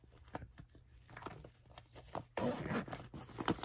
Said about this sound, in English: And then I just zip it up.